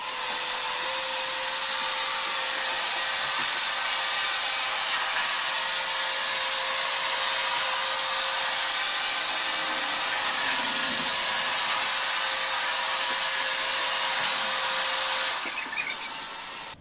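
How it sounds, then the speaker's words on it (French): A Viomi V3 robot vacuum cleaner in turbo mode, its steady, loud motor whirring continuously with a high-pitched whine, then cutting off abruptly near the end. "Nous avons mis l'aspirateur en mode turbo."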